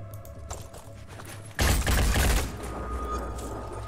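Gunfire in the tactical video game Phoenix Point, a loud rattling burst of rapid shots after a quieter stretch, trailing into lingering rumble.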